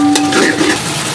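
Meat pieces fry with salt in a pot for Pakistani beef yakhni pulao, a loud close sizzle with a stirring scrape, brief and continuous.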